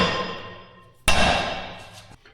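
A punch is struck with a hammer to peen over set screw threads on a salvaged man-lift boom part: a decaying ringing tone, then one sharp, loud metallic strike near the middle that rings out and fades.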